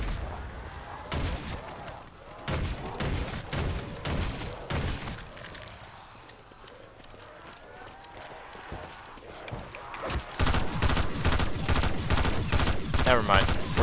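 A Helvana weapon firing in a video game fight against Nova crawlers: rapid bursts of sharp shots in clusters, heaviest at the start and end, with a player talking between them.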